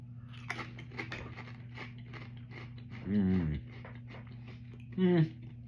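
Pringles chips crunched and chewed close to the mouth, two short loud bursts of crunching amid ongoing talk and a low steady hum.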